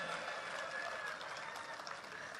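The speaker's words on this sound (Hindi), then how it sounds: "तालियां तो बजनी चाहिए भाई" An audience at a Hindi poetry recital by Kavi Sampat Saral breaks into applause. Continuous, even clapping holds at a faint, distant level throughout the short stretch.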